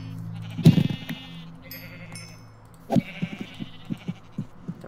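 Minecraft sheep bleat repeatedly, two louder wavering calls separated by a pause, followed by a rapid run of short clicky hit or step sounds, all close and without speech.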